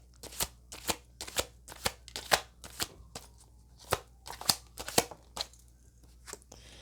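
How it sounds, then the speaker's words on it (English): Tarot cards are shuffled and pulled in a string of crisp, close riffling snaps, about a dozen sharp bursts at an uneven rhythm, quiet between strokes and with no talk. "let's pull some cards on these"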